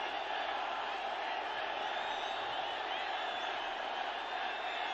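Football stadium crowd at the 2013 SAFF final between Nepal and India, a steady dense roar of many voices from a large distant crowd, continuous and fairly faint.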